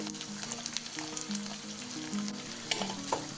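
Onions sizzle and crackle steadily in hot oil in a pan for Kashmiri fish curry, a close, continuous frying hiss with occasional stirring scrapes.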